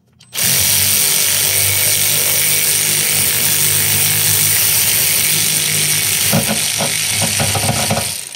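A power tool whines loud and steady up close as it works a stud out of a 2012 Ford Fiesta engine during a timing belt job, with a few sharp clatters and ratcheting knocks near the end.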